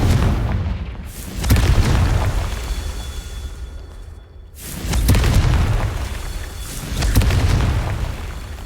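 Loud booming blasts of the Confringo fire spell in the Hogwarts Legacy video game, three heavy explosions spaced a few seconds apart, each followed by a rumbling decay.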